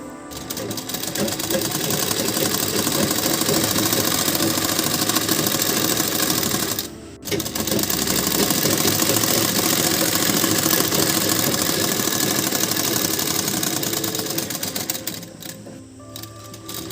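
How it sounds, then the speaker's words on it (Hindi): Electric sewing machine stitching a blouse sleeve, a steady fast mechanical whir and needle clatter running continuously, with one brief pause midway and slowing near the end. "इसी तरह दूसरी स्लीव को भी हम सिल लेंगे।"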